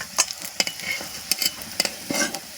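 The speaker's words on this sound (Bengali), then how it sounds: "আমার এগুলো উল্টে পাল্টে লাল করে ভাজা হয়ে গিয়েছে" Vegetarian fish pieces frying in oil in a home kitchen, with a continuous sizzle broken by sharp clinks and scrapes as the pieces are turned with a utensil.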